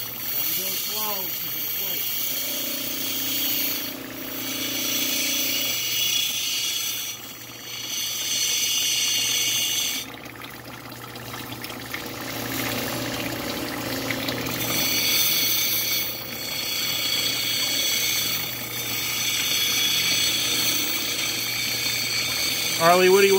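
Malachite stone is ground against petrified quartz, producing a loud continuous grinding and whirring that swells and drops in long passes, with short breaks and voices talking underneath.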